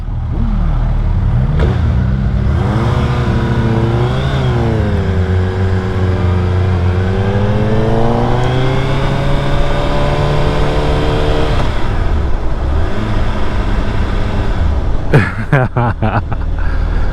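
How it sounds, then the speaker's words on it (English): A 2022 Suzuki Hayabusa motorcycle engine rumbles loudly up close, its pitch rising and falling through several revs over a steady idle. "we're getting ready to ride this this Busa Bruce right there."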